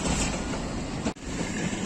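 Pakistan Railways Rawalpindi Passenger train running near Haripur Hazara, a loud, steady rumble of wheels and carriages with a brief dip partway through.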